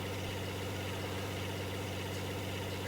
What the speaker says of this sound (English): This engine sounds a lot smoother than the V8 too.